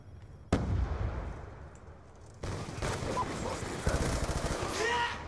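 Rapid bursts of gunfire in Black Ops 2 multiplayer on the Hijacked map: a sudden loud volley, then a quieter stretch before another sharp burst and continuous shooting with clattering crackles and dense, echoing reports through the rest.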